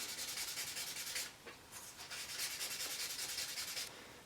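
Sandpaper rubs quickly back and forth over a carved balsa wood fishing lure, a close, dry, rhythmic scratching with a short pause partway through.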